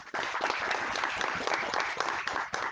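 An audience at a national Indian-languages session gives loud, dense, continuous applause lasting the whole stretch, with a brief dip near the end.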